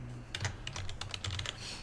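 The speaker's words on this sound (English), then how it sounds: "I'm not typing in the right window here." Rapid typing on a computer keyboard, a close, irregular patter of key clicks with small pauses, heard alone without speech.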